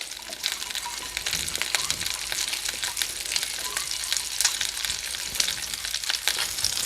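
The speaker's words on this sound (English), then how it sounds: "This pan is kind of splattering a little bit." Honey garlic sauce spattering and bubbling hard in a hot pan, a loud dense crackle with sharp popping bursts throughout, close and continuous with no voices.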